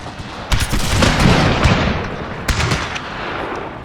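Musket volleys in a Total War Thirty Years' War battle, a rolling crackle of many shots with sharp louder reports at intervals, booming and continuous with a faint rumble behind.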